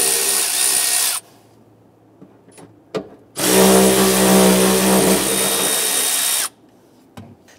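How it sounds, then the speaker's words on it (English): A power drill or driver spins an 8mm socket to remove filler neck bolts on a 1994-2004 Ford Mustang, two loud, steady whirring bursts, the second and longer one with a deeper hum, separated by faint handling clicks. "We're using our 8mm socket to remove these."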